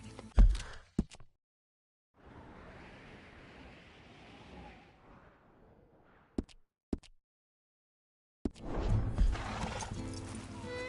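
A horse in the video game Red Dead Redemption 2 snorts and whinnies at moderate volume between short sharp clip-clop hoof knocks, with gaps of near silence around them.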